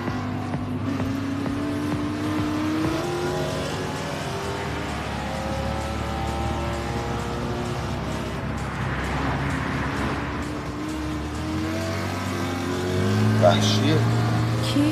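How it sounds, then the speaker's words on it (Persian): A car's engine accelerates and revs up over a steady drone, loud and close, with rising and falling harmonic tones throughout and a brief louder surge near the end. "ماشین شتابش عالیه"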